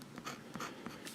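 A calligraphy pen with a medium nib scratches across paper in a few faint, quick strokes, soft and close with nothing else heard.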